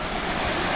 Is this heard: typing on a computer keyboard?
no